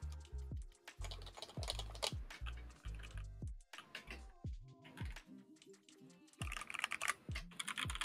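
Mechanical key presses on an HHKB Stream keyboard, dense bursts of close clacks and taps in quick irregular runs with brief pauses, loud and alone without talk.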